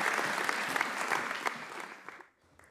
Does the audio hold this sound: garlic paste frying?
no